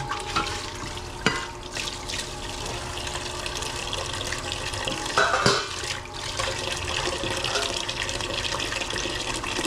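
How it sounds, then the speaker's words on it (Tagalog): Water pours steadily into a container, a continuous splashing stream with a couple of sharp knocks and clinks along the way. "Lagyan ko ito ng tubig ngayon."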